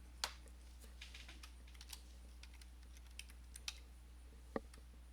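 Keys clicking on a computer keyboard as a word is typed: a sparse, uneven run of quiet, close taps with short pauses between them, over a low steady hum and with no voices.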